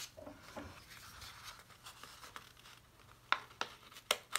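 Crisp paper snips and crinkles, quiet at first, then several sharper cuts in quick succession near the end, close by with no talking.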